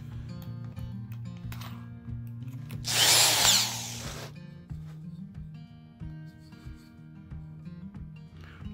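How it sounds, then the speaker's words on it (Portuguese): A power drill bores a hole in wood while a pigeon call is being made, giving one short, loud whining burst of just over a second amid quiet background hum. "Fazer um furo aqui, ó."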